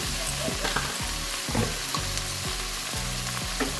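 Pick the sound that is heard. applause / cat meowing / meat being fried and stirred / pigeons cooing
meat being fried and stirred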